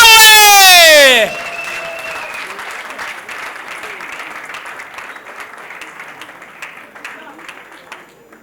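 Applause from a comedy-show audience fills the room after a bright swept musical sting, a dense steady clatter of many hands that thins slightly and fades toward the end, with no voice over it.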